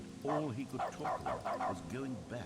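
The Stanley Parable: Ultra Deluxe plays in its dog mode: a run of close, loud yips and barks that follow the rhythm of a narrator's spoken lines, with speech heard alongside them.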